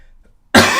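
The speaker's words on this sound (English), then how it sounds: "excuse me again, my cough is still here." One sudden, loud, close cough bursts out of near silence during a football press conference reaction, a single harsh rasping blast.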